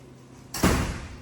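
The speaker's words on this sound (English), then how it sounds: "I'm actually gonna shut this door on the way out." An office door swings shut on the way out, one firm close with a short thud and a brief rattle, heard near and alone in a quiet room.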